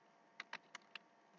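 Four quick, separate keystrokes tapped on a computer keyboard, soft and close, with a faint hiss between them.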